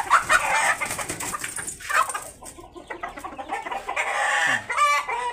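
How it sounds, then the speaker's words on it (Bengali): Farm hens and a rooster cluck and squawk in close, uneven bursts, several birds overlapping, with a sharper call rising near the end. "এখানে আমার 4টা মুরগি আছে আর একটা মোরগ আছে।"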